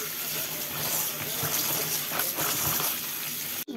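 Water pours or bubbles in a pot while spinach, okra and egg are being cooked, a continuous loud splashing gush that cuts off abruptly near the end.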